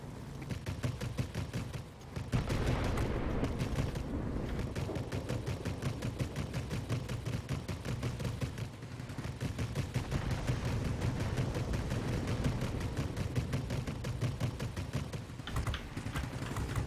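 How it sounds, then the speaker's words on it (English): Aircraft machine guns rattle in rapid, continuous bursts in the World of Warplanes video game, a dense, loud stream of fire with a brief pause near the start. "We're using these guns to soften up targets we can hit with our bombs in a second."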